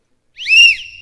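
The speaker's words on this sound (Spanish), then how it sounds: "suena el silbato fuerte" A loud, shrill whistle blast rises sharply, holds a steady high tone and then tails off, heard clearly on its own against silence.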